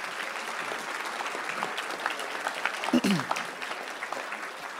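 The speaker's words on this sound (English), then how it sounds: "let's give these guys a round of applause real quick, please." Audience applause for football players at a board meeting, steady moderate clapping from a room of people with a brief louder bump partway through.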